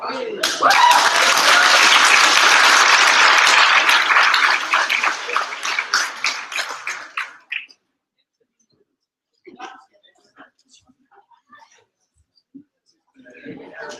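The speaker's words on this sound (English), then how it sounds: "Big round of applause for all the good information." Graduation audience applauding, a dense, loud burst of clapping that fills the first seven seconds and then cuts off, followed by sparse quiet sounds and a few faint noises near the end.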